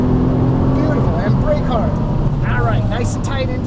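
Nissan GT-R engine on a race track, a loud steady roar running throughout, with an instructor's voice talking over it.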